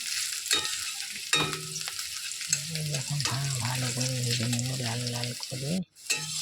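Chopped onion and green chilli fry in hot oil, a continuous close sizzle broken by repeated scraping stirs of a spatula against the pan, with a sudden clatter just before the end.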